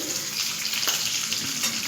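Capsicum lightly frying in a pan for a pineapple chicken dish, giving a steady, close sizzle with soft stirring scrapes throughout and no talking.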